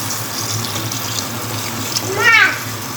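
Hot water runs from a kitchen tap in a steady broadband rush, with a brief gurgling swell near the end.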